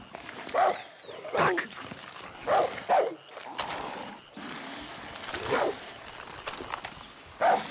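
A dog barks in the Far Cry 6 video game: loud, close bursts of barking in an irregular rhythm, with short gaps between them and game background noise underneath.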